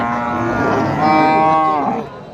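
A thin dairy cow at the Hasokhali cattle market in Dhunot, Bogura lets out one loud, close, drawn-out moo lasting about two seconds, which rises and then tails off.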